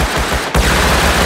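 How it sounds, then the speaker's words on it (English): Rapid gunfire in a multiplayer group survival video game crackles in dense, repeating bursts that run continuously and loudly for the whole short stretch, with almost no pause between shots. "Someone just shot me."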